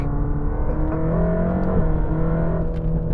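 A Mercedes-AMG GT Black Series flat-plane-crank engine hums and revs with a smooth, high-pitched tone that rises and dips slightly, loud and continuous throughout.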